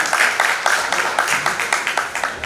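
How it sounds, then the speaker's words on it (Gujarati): Brief burst of audience applause at a celebration of Ramanandacharya's 725th birth anniversary in Junagadh, rapid claps blending into a steady, fairly loud patter. "એટલે એકવાર જોરદાર તાળીઓના ગડગડાટથી મીરાબેનને વધારે."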